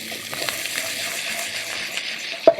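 Onion hitting hot oil in a pan, a steady bright sizzle and crackle with small pops and a sharp clink of a utensil near the end.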